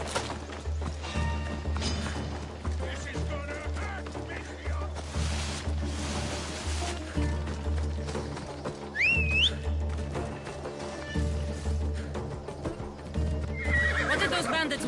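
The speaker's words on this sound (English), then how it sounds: "This would be faster on horseback." A horse neighs and its hooves clip-clop steadily in Assassin's Creed Odyssey, the whinny rising briefly over game music, ambient sea sounds and characters talking.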